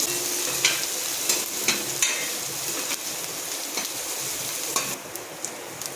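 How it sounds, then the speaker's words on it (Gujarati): Chopped onion frying in oil in a pan, a steady, even sizzle throughout with a few light stirring taps of a spoon against the pan. "સૌથી પહેલાં આપણે ડુંગળી તેલમાં ઉમેરીશું"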